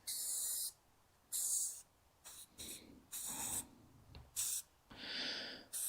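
A spray-paint can hisses in light coats over a DIY garden project made from junk, in about six separate bursts, close and fairly loud, with short quiet gaps between them.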